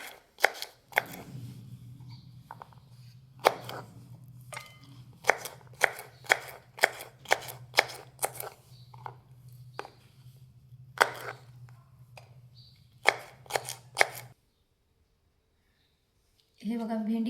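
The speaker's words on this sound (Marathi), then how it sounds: "तर इथे मी अशा प्रकारची भेंडी कट करून घेते." A knife chops a quarter kilo of washed okra (bhindi) in quick, regular close strokes against a board, a long run of crisp taps over a low hum, then a pause before a brief final noise.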